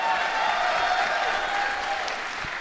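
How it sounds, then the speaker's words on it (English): Live audience applause at a panel show during the RTX 2015 convention, a steady dense wash of clapping from a large crowd, loud and sustained throughout the short stretch with no talk over it. "Please give Gus another round of applause as he bleeds backstage."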